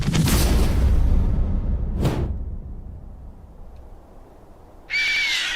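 Bloodwing, a bird in the Borderlands 2 video game, gives a loud swooping screech amid booming whooshes, followed by a quieter stretch and then a sharp high cry at the end.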